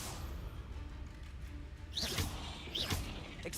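Confringo spells cast in the video game Hogwarts Legacy: two sharp whooshing blasts with a bright chirping flare, about a second apart, over a constant rumbling game background.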